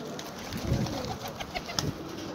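Iraqi tumbler pigeons coo softly, two low throaty calls about a second apart, nearby, over steady outdoor background noise.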